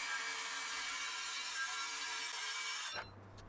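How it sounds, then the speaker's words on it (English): A circular saw guided along a straight edge trims about 20mm off the bottom edge of a wooden panel from a mid-century bookcase cabinet, a loud continuous cutting whine that ends abruptly near the close. "I trimmed off about 20mm using my circular saw with a straight edge guiding the cut"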